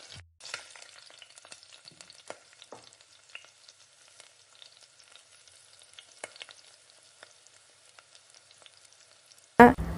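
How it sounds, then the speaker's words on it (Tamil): Onions sautéed in hot oil with spices for a mutton kulambu, a faint, sparse crackle with scattered soft stirring clicks, ending in a sudden louder burst of sizzling. "இந்த வெங்காயத்தையும் நல்லா எண்ணெயிலே போட்டு நல்லா வதக்கணும்."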